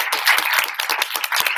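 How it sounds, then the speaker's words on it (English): Audience applause at a live evening Q&A event, a steady burst of close, dense clapping with no talk over it. "So give her a round of applause."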